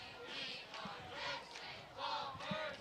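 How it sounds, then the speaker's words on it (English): A high school football crowd at an afternoon Mountain Home Bombers versus Greenbrier Panthers game cheers and shouts in the stadium, in rising and falling waves of yelling heard from a moderate distance. "Got a pretty nice Bombers crowd here in the stadium tonight"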